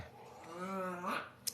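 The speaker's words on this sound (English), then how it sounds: "That was a dog burp." A dog lets out a single drawn-out, throaty burp after gulping water too fast, fairly close and ending with a brief sharp click.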